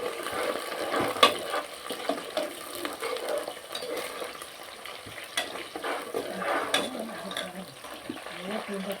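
Onion and curry leaves frying in hot oil, a steady crackling sizzle with occasional stirring scrapes, close and moderately loud with no speech over it.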